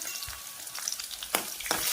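Mustard seeds and chopped shallots sizzle and crackle steadily in oil in a pan, with a few louder pops and spatters near the end.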